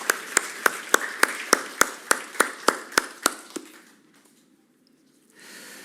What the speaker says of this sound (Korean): 우리가 다시 한번 감사의 박수 올려드리겠습니다